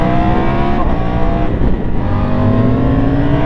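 A Triumph Tiger motorcycle engine pulling hard while riding, a loud, close, throaty drone that rises in pitch as it accelerates, with a brief dip midway before climbing again.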